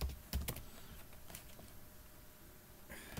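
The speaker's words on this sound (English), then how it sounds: "just let me type it." Fingers type code on a computer keyboard, a run of soft, close key clicks at an irregular pace with a few louder taps near the start, alone and fairly quiet.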